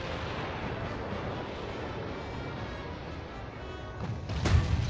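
Naval warship blowing up under heavy gunfire in the Ultimate Admiral Dreadnoughts battle game, a dense continuous rumble of booming cannon and blasts that swells into a louder burst near the end.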